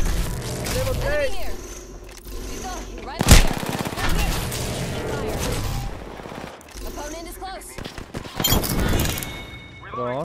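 Gunfire in a first-person shooter video game, with several loud sharp shots and bursts scattered through the scene, one especially hard crack near the middle, under excited talk from players.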